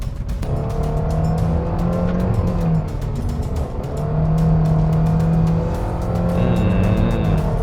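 Toyota Veloz with a CVT heard from inside the cabin while driving, its engine droning loudly and steadily, the pitch rising and falling as the car accelerates.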